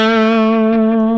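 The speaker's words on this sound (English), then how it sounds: "That's pretty much what a Fender amp would sound like if you cranked it all the way up." Electric surf guitar played through a Fender amp cranked all the way up: a single loud, sustained, overdriven note ringing steadily with rich harmonics before cutting off.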